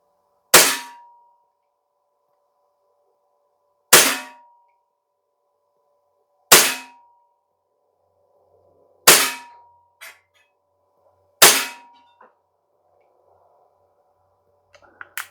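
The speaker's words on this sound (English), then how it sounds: "We'll see how well this gun shoots." Five sharp CO2 blowback shots from a Barra 4006 BB pistol fired at a target outdoors, spaced a few seconds apart, each a loud crack with a ringing metallic ping, followed by a few faint clicks.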